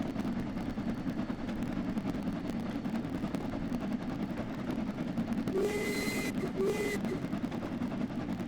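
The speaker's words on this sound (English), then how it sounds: "The chuffing sounds, as you can hear now," An LMS Jubilee steam locomotive, 45596 Bahamas, runs in Train Sim World 5, giving a steady, fast, blended chuffing roar throughout, with a brief high whistle-like tone partway through.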